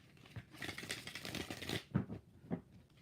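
Tarot cards being shuffled by hand, a steady papery riffling and flicking that runs for a couple of seconds, followed by a few separate soft card taps, close and fairly quiet with no talking.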